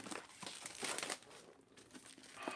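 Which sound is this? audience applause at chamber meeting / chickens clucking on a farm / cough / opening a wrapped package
opening a wrapped package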